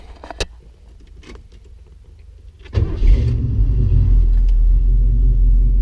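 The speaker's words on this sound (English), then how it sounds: "Now let's fire it up and see if we can hear it run." A 1970 Ford Torino GT engine cranks and catches on a cold start, then settles into a loud, steady low rumble at idle. A few faint clicks come first.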